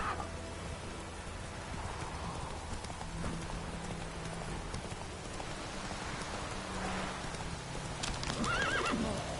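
Roach the horse in the Witcher 3 video game walks on with steady hoof clip-clops over falling rain, then neighs clearly near the end; no talking.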